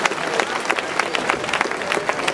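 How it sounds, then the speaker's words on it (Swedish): Audience applause at the opening ceremony of the O-Ringen 2010 orienteering event, a steady wash of many hands clapping throughout with faint crowd murmur beneath. "vi tackar naturligtvis Karin med en varm applåd."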